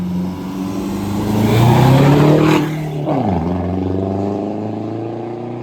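A Lexus car engine revving in the video game Midnight Club, loud rising revs that peak and then drop sharply, followed by a steadier engine drone.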